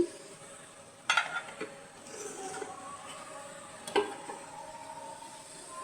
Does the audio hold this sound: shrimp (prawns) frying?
yes